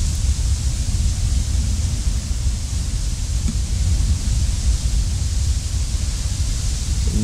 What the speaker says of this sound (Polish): W tle słyszycie szum tego wodospadu.